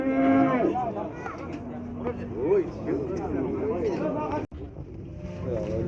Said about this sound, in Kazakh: Аққошқар ауылының малдары екен.